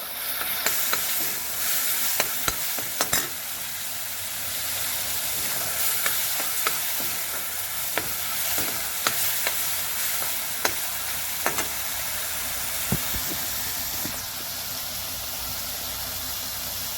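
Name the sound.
lentils being fried and stirred in a pan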